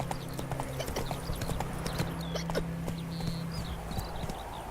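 Horse hooves clip-clop in a steady trotting rhythm in The Witcher 3, mid-distance and moderately loud, with faint ambient game sounds around them.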